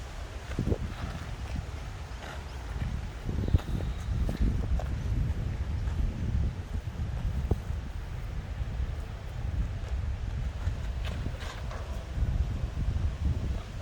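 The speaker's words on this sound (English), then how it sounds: "This wind's coming in." Wind gusting across an open disc golf course in Adelaide, South Australia, a steady low rumbling buffet on the microphone that continues throughout with no break.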